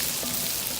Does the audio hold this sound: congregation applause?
no